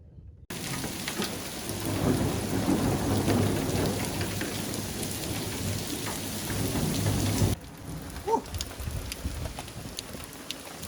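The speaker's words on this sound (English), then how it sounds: "Big thunderstorm in the distance." A big thunderstorm with heavy rain, steady dense rainfall hissing over rumbling thunder, heard from a tower room at a guest house; the roar drops sharply partway through, leaving quieter rain and a few drips.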